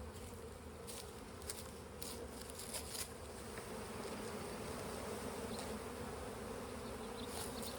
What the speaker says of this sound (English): I shake these bees in here